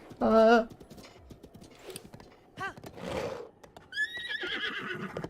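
A horse in the video game Breath of the Wild gives a loud, close whinny near the start, answered by a second, higher neigh toward the end, with a person talking faintly in between.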